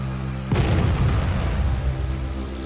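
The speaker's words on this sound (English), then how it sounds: "we'll show an artillery strike in action" An artillery shell strikes an anti-aircraft vehicle in the Arma 3 video game, a single heavy boom that bursts out over a low steady hum and leaves a long rumbling decay.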